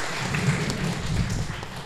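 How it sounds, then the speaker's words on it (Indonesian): An audience claps in a steady, moderately loud burst to welcome a guest speaker at a live event, the sound spread evenly across the room with no talking. "Boleh semuanya tepuk tangan."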